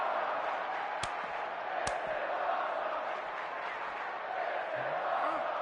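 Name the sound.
crowd reacting in WWE 2K26 video game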